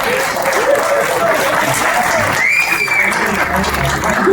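Loud, continuous crowd applause after an energetic speech at a Tamil film event, dense clapping holding steady throughout with faint cheering tones and a voice briefly audible beneath it.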